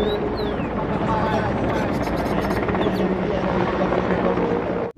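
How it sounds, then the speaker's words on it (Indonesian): A toy military helicopter whirs with a steady rotor buzz, close and continuous, while a person talks over it. "Widih, ada helikopter tentara teman-teman."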